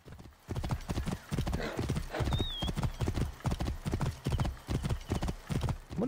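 Steady rhythmic clip-clop of horse hooves at a quick gait in the video game Assassin's Creed Origins, loud and close, continuing throughout with a brief whinny partway through.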